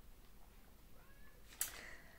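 A short, faint meow comes from a shaved cat recovering from an abscess, followed by a sharp knock or thump nearby, with no one talking.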